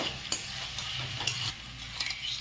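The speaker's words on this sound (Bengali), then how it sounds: "আবারও কিছুক্ষণ নাড়িয়ে নেব।" Cauliflower in a yogurt curry stirred in a pan over a low-medium flame, with steady scraping strokes and light clicks of the spoon against a soft, continuous sizzle, close and fairly quiet.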